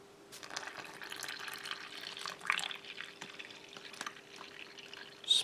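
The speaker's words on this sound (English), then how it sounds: "give you much room to pour water in there, but we'll give it a go." Water poured into a US MRE chocolate protein drink pouch, a soft trickling and splashing stream of liquid with a faint steady tone, fairly quiet and close, ending in a brief louder splash.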